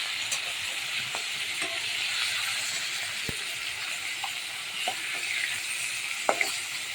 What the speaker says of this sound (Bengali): এটা কড়া কড়া মাছ ভাজছি।